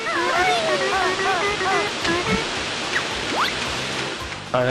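Rushing waterfall in the video game Banjo-Kazooie, Mumbo's Mountain level, a continuous hiss of falling water under someone talking over it.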